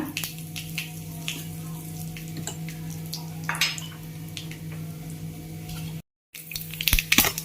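Tempering spices crackling in hot oil for a Tamil fish curry, with scattered pops and spits over a low hum and a short dropout near the end.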